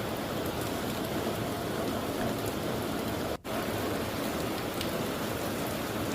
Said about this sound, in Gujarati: પંચમહાલમાં પણ વરસાદ વરસી રહ્યો છે।